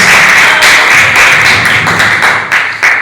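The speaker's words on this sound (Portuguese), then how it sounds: "pode dar uma salva de palmas para Jesus" Steady rhythmic clapping from a church congregation, many hands beating together in a fast, even pulse, loud and close with no voices on top.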